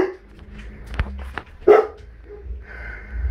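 Tibetan Mastiff and Akita hybrid puppies yip and bark in the background, a few short sharp barks and whimpers scattered over low room noise, with a brief louder bark in the middle.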